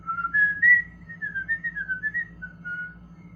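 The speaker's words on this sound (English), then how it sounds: "I think I whistle on my inhale more than I whistle on my exhale." A person whistles a wavering, melodic tune in close, clear tones, the notes sliding up and down over a faint low background hum, with no talking.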